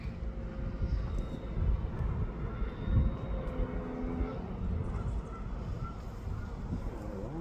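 Giant model airplane engine making a low pass from right to left, a continuous droning rumble that stays fairly steady and moderately loud, with a buzzy tone riding over it.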